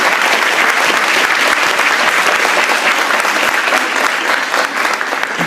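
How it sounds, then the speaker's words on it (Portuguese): An audience at a ceremony rises to its feet in a standing ovation, with dense, sustained applause that fills the whole stretch at steady loudness and shows no break. "Todos aplaudem de pé."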